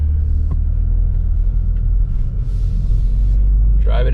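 A 2025 Toyota GR Corolla automatic rolls along at low speed in drive, its engine and road noise forming a steady, loud low rumble throughout, with a brief brighter rustle near the end.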